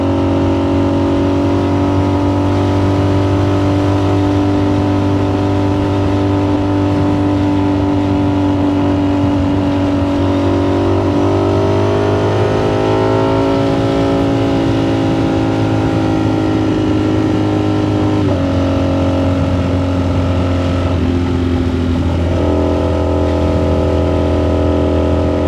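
Car traffic on a toll road at night: a loud, continuous engine drone close by, rising in pitch, then dropping and shifting as the vehicles pass, with no talking.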